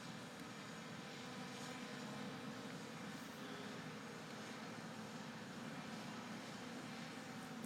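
A drone hovers over a house at sunrise, heard as a faint, steady distant engine-like drone under a broad outdoor hiss, unbroken and without voices for several seconds.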